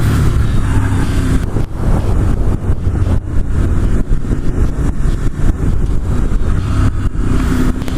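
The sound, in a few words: 2019 Ducati Monster motorcycle engine accelerating on throttle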